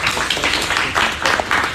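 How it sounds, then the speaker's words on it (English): A seminar audience claps to welcome a presenter to the stage, a moderately loud, uneven patter of many hands that pulses in small swells throughout. "Everyone, please give applause."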